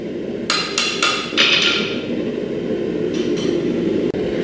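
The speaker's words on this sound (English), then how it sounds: "just to make sure that we have our hammer blows even" A bladesmith's hammer strikes a blade being forged, with a quick run of four sharp, loud metallic blows close by, then a couple of fainter taps over a steady background roar.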